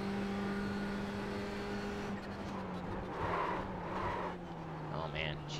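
Ferrari 488 GTE race car engine on a road-course oval, a sustained droning note that shifts pitch as the car runs with others in the slipstream, loud and continuous with a driver talking over it.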